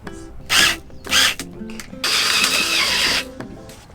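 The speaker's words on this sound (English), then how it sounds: "We drilled it the wrong way, but it's actually fine." A power drill at work during a home-made van build, heard as two short bursts of whirring followed by a longer continuous run, loud and close, with faint clicks in between.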